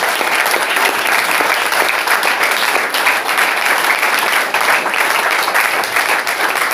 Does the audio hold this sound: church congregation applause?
yes